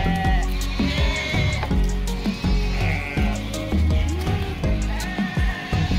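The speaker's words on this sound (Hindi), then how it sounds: "तो ये देखिए भेड़ बकरियां, कितना ब्यूटीफुल साउंड है" Sheep and goats in Kashmir bleat repeatedly, loud and close, their calls overlapping in an irregular chorus with hoof and rustling sounds beneath and no talk.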